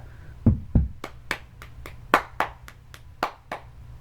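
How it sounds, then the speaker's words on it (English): Sharp hand claps from a cheerleading tryout cheer ring out about a dozen times, mostly in quick pairs with short pauses, close and crisp over a quiet background. "then you clap twice"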